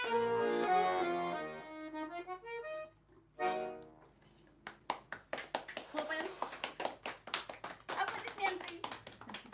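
Two people clap hands in time with a song during a live accordion broadcast, sharp rhythmic claps arriving in a quick regular beat after a few sustained accordion-like tones, close to the microphone, with a voice briefly audible.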